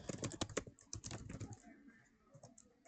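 Quick bursts of key clicks on a computer keyboard, close and fairly faint, tapping in a fast irregular rhythm with a short lull before a few more presses.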